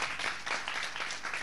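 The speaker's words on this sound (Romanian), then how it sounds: "aplauze pentru că merită" Festival audience applauding steadily, a dense wash of clapping that fills the short moment at moderate loudness with no voices over it.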